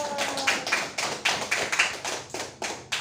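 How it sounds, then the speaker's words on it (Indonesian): Students in a classroom clap hands together in a rhythmic, patterned sequence of distinct bursts, fairly close and moderately loud, with brief gaps between groups of claps. "Tepuk tangan dulu."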